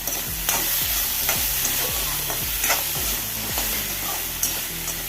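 Chopped green chillies and salt are stirred in a frying pan for a tomato and okra curry, with a steady run of close scraping strokes every half second over a soft sizzle and no talking.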